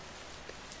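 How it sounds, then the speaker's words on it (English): Gentle light rain falling steadily, a soft continuous hiss of drops with faint patters, distant and quiet, no voices. "The rain continues its gentle descent, lighter now"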